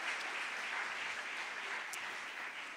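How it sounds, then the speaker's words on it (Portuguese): A church congregation applauds steadily, a dense wash of clapping from many hands that holds at an even level throughout, with no voices rising above it. "Pode aplaudir a palavra do Senhor, que é forte, que é poderosa"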